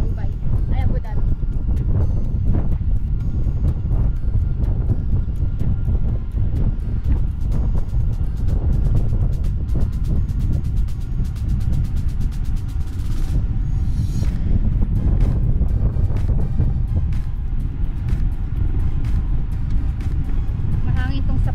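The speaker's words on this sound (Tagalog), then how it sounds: "Mahangin tong sa part na to. Haba. Napakahangin." Strong wind buffets the microphone in a continuous low roar during a night bike ride on the Hudayriat cycling track in Abu Dhabi. Voices talk over it in places.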